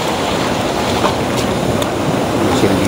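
Loud, continuous rush of ocean waves and wind on a rough sea during a fishing trip, with buffeting wind noise on the microphone and no pause.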